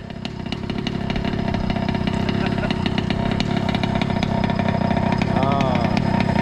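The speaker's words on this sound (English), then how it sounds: "That lovely idle dropping." A Diablo 88 engine idles steadily at close range in a racing game, a continuous rumbling drone with a rhythmic throb that holds at a fairly even level throughout.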